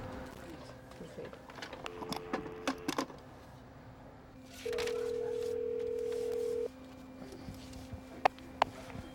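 A steady phone tone hums for about two seconds, followed by a couple of short sharp beeps amid quiet room noise and faint speech.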